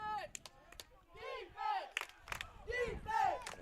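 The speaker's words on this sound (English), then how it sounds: "As the Pawnee crowd here trying to get the defense to step up." A high school football crowd at a South Fork vs St. Anne game roars and chants for the defense, swelling in repeated loud waves of massed voices with occasional sharp shouts and brief claps.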